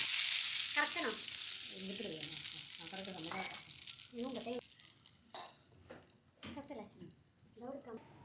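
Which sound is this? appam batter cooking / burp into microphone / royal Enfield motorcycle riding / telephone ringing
appam batter cooking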